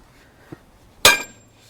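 A hammer hits the cuff pin on the rolling cultivators of a Farmall Super A tractor, a single loud close metallic strike with a short ringing decay, preceded by a faint tap in otherwise quiet surroundings.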